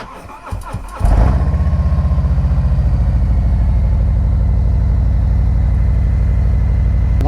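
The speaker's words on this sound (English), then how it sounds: "Let's do a cold start." A 2020 Harley-Davidson Street Glide CVO motorcycle cold-starts with a loud crank and catch, then settles into a steady, throbbing idle that stays close and continuous.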